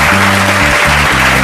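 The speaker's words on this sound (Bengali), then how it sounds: "বিজ্ঞানীর জন্য আরেকবার হাততালি হয়ে যাক।" Applause for a scientist at a cartoon gathering, a steady dense wash of clapping filling the short moment without any voices over it.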